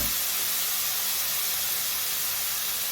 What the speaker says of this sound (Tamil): இப்போ நான் வெட்டி வச்ச தக்காளி பழத்தை போட்டு நல்லா வதக்க போகிறேன்.